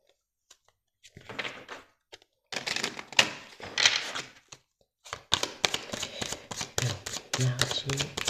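Tarot cards shuffled and drawn for a reading: bursts of riffling and shuffling come close and loud in separate spells with brief pauses, ending in a dense run of quick card flicks and light taps.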